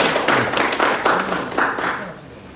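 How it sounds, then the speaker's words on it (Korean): Audience at a potato-farming seminar in Gurye claps loudly to welcome the speaker, a brisk, close burst of many hands that swells and then fades away toward the end. "그럼 박기현 대표님을 큰 박수로 맞이해 주세요."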